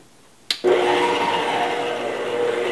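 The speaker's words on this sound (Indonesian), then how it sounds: "langsung aja kita kocok kecepatan tinggi 20 menit" Electric mixer whirring at high speed through steamed sponge cake batter made without emulsifier or raising agent, switching on with a brief click and then running steadily and loudly alone.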